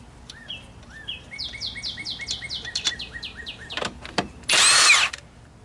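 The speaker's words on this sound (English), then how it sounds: "let's say you want to take off lug nuts, right, with your impact" A Milwaukee impact wrench removing lug nuts gives a short, loud hammering burst near the end, preceded by a couple of brief clicks, while birds chirp steadily in the background.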